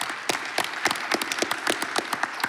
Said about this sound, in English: Good hand of applause and welcome to Stéphanie Vallon.